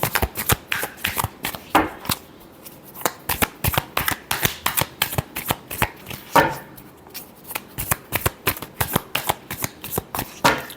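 Tarot cards are shuffled by hand in a steady run of quick, crisp riffling and slapping sounds, close and clear with brief pauses, and no voice over them.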